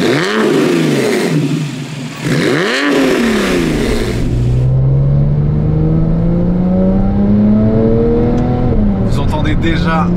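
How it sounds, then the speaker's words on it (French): Porsche 911 Carrera GTS with a 3.8-litre naturally aspirated flat-six, Metzger-built, breathing through an Akrapovic exhaust, revs up and down in two sharp blips, then holds a steady rising drone close by, with voices talking over it early on. "Vous entendez déjà la sonorité du flat 6."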